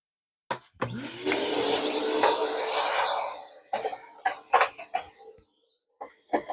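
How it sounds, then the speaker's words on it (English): A shop vacuum runs for a few seconds cleaning sawdust out of a bandsaw, a steady loud whirring roar that then stops, followed by a few short clunks and knocks. "Vacuum."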